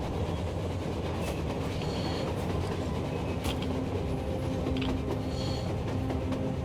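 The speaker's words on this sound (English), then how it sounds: "A train! A damn train on the surface!" A train in the video game Metro Exodus rumbles past steadily, a dense low roar with metallic rattling and occasional squeals, continuous and fairly close throughout.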